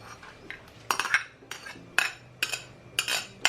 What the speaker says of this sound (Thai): แล้วเราก็ ใส่ ข้าวโพดลงไปเลยค่ะ